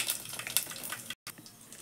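Cumin and mustard seeds sizzle in hot oil, a dense crackling hiss with scattered sharp pops, close and steady, broken by a brief dead gap of silence before the sizzling resumes.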